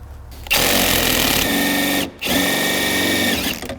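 A spring compressor is run up on the rear strut of a 2005 Honda Civic, giving a loud, steady mechanical whirr like a power tool. It keeps running for about three seconds with one brief pause, and no one talks over it.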